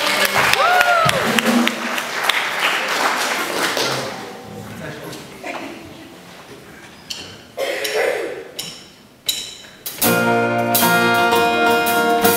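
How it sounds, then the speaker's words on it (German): Concert audience applause at a music school semester concert in Haiming, clapping swelling at first, then fading into scattered claps and voices before music returns. "bitte großen Applaus"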